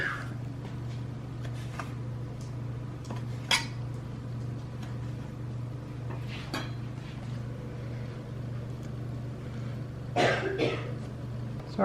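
A woman coughs a few times in a home kitchen after a blast of cooking spray, faint and set against a steady appliance hum and light clinks of pans.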